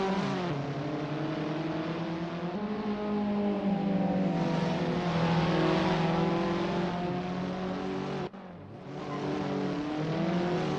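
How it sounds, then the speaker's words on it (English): Abarth 500 race cars roar in an Assetto Corsa Grand Prix race, engines droning and revving steadily with rising and falling pitch, loud and continuous, dipping briefly near the end before climbing again. "The roaring engines are echoing Andreas Dittmann's battle cry."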